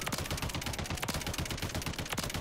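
A Taq Evolvere rifle fires on the firing range in the video game MW3, a continuous rapid burst of loud close automatic shots in a tight even rhythm for the whole stretch.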